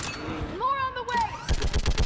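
Gunfire in the Mass Effect 3 video game during a bridge battle on Thessia, short bursts of shots crackling in a quick run near the end, with a voice speaking over the earlier part.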